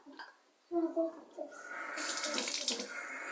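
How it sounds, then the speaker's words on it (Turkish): A tap runs into a sink while hands and face are washed, the water stream starting after a short spoken bit and continuing as a bright, steady splash that grows fuller toward the end. "şimdi elimi yüzümü yıkayacağım."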